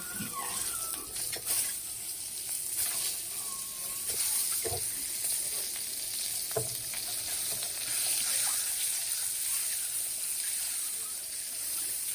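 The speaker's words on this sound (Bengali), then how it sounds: "তো আমার কিন্তু ডিমগুলো ভাজা হয়ে গেছে" Spice-coated eggs frying in a pan make a steady, fairly quiet sizzle throughout, broken by scattered taps and scrapes of a utensil being stirred, with no talking.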